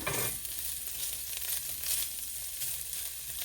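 Smoky sausage sizzles and browns in a pot for gumbo, a steady, fairly soft hiss with light crackling and no voices.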